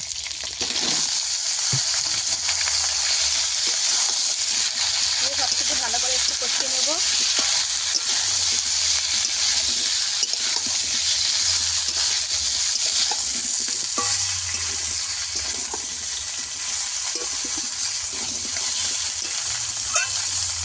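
Bottle gourd goes into a pond-fish curry with bori and potato that is frying in a pan, followed by steady loud sizzling and continuous scraping stirring close by.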